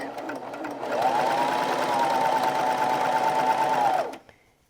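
Serger sewing machine skimming the edge of a fabric scrap, a close, steady mechanical whir running for about three seconds with a brief start and a clean stop.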